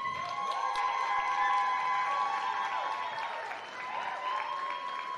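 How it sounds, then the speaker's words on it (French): Steady audience applause and cheering at an honorary gala, broad and continuous with a few shouts rising over it before easing briefly and swelling again. "faites du bruit pour Bijou Somway"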